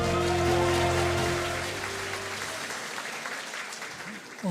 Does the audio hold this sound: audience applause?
yes